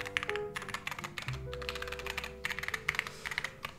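Rapid typing on a Mode80 mechanical keyboard with its middle foam removed, dense irregular clacking keystrokes close up and steady throughout, with no talking.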